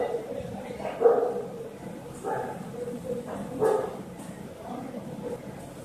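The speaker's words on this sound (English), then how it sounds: "doggy, stop barking" A dog barks indoors, several muffled, moderately distant barks spaced a second or so apart, with a few higher yips among them.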